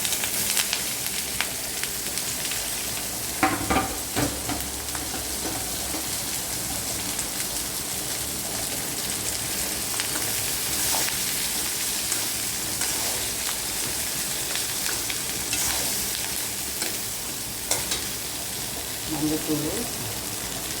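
Snake gourd fries in a pan with a dense, steady sizzle that continues the whole time, plus occasional soft clinks and stirring sounds.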